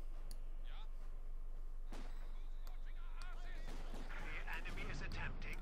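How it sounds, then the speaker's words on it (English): Mortar barrage artillery in Company of Heroes 2 booms in scattered, distant thumps with whistling shells, set against a low battlefield drone while someone talks over the action. "Barraging for extra accuracy, and then we almost got the section"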